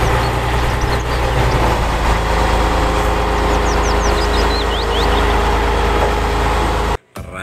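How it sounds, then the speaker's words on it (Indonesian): A steady, loud engine drone rumbles from a toy tow truck, constant and unbroken, with faint chirping bird-like tones above it before it cuts out abruptly near the end. "Mobil truk derek."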